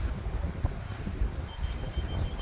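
Strong wind buffets the microphone at a hilltop viewpoint in Vagamon as a continuous, close, low roaring rumble with uneven gusts.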